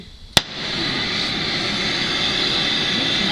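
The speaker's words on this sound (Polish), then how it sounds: "mamy palnik, mamy płomień. Acetylonowotlenowy." An oxyacetylene cutting torch is lit with a sharp pop, then settles into a steady, loud roaring hiss of flame that continues unbroken to the end.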